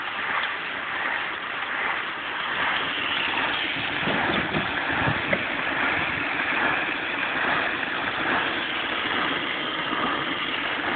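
Small live steam engine on a rolling road ticking over slowly with a soft rhythmic chuffing and hiss, steady and moderately quiet throughout.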